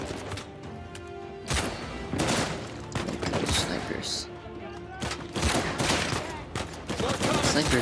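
Heavy gunfire in Uncharted 4 rattles in dense, continuous bursts of loud overlapping shots, with crashes and impacts mixed in among the shooting.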